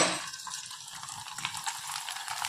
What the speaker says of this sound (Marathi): ना आपण तांदळाच्या पापड्या तळून घेणार आहे.